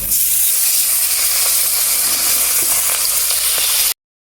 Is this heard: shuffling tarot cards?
no